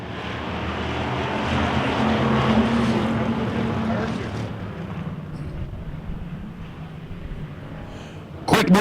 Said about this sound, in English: Ken McGarva out of Balmoral, Manitoba looks at the green flag, sees it in the air, and steps on the throttle.